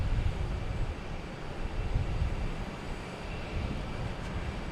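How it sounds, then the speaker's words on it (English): A United Airlines Boeing 737 MAX 9 arrives at Boston Logan Airport, its engines a distant, steady low roar with a broad rushing hiss that holds throughout, no voices over it. "Next coming in is United Airlines coming from San Francisco"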